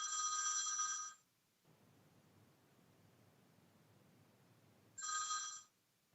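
A telephone rings in two bursts of a bright electronic trill, each about a second long, with a quiet hissy pause between them and no talk over it.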